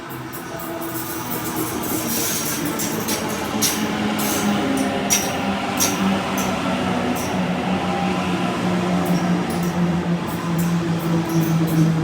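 A train pulls into a Sydney station platform on a line known for noise, a steady rumbling roar with a low hum that holds throughout, plus faint high squeals and clicks from the wheels.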